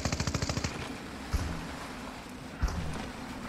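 Gunfire in the Fortnite video game: a fast rapid burst of about ten shots, then two single heavier shots spaced apart, loud over a steady game background.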